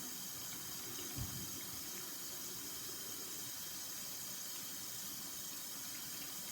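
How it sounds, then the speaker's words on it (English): Hands being washed under a running tap make a steady, close stream of water hiss that continues evenly throughout, with a single faint knock early on and no voices. "I'll wash up."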